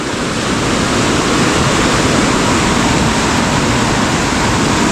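A river swollen by heavy rain rushes in a loud, steady roar of churning floodwater that fills the whole stretch with no break and no voices.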